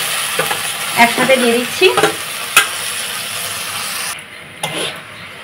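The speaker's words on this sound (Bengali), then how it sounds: "মশলাটা ভালো করে কষিয়ে নিচ্ছি" Chopped green chilli, onion and tomato with spices being fried and stirred in a pan over a clay stove, with a steady loud sizzle and scraping strokes of the spatula while a person speaks briefly over it.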